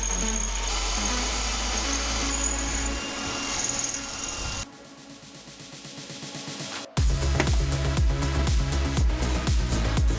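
Tool working on rusted, seized bolts on a Mazda, loud continuous mechanical grinding and rattling that drops off briefly, then resumes with harsh repeated impacts.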